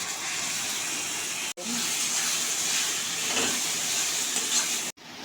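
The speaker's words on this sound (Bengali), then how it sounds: "এবার দেবো টমেটো পেস্ট।" Tomato paste goes into spices already frying in oil for a dhaba-style chicken dish, giving a steady, even hiss of sizzling that runs on unbroken apart from two abrupt cut-outs.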